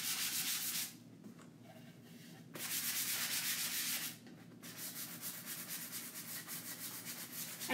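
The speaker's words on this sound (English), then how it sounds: "So I'm going to sand it just a little bit." A painted barn door sanded lightly by hand to distress the finish, heard as close, steady scratchy rubbing strokes with two short pauses and no talk.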